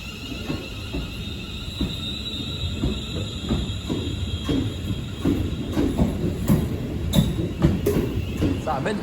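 Train at a railway station, with a steady rail-yard rumble and intermittent clanks and squeals rising toward the end, fairly close and continuous with no talk.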